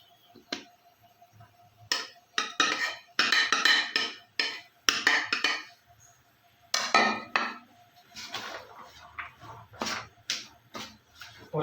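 Chopped boiled chicken is stirred in a bowl in a home kitchen, with irregular bursts of clinking and scraping against the dish and quiet gaps between them.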